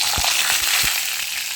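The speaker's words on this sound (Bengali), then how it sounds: "এবার কিন্তু কুমড়োটা ভেজে নেব।" Pumpkin pieces frying in hot oil, a loud, dense crackling sizzle with a few low thumps as pieces shift, close and continuous.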